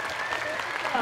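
A burst of audience applause at a school district orchestra festival, heard briefly and mixed with a voice.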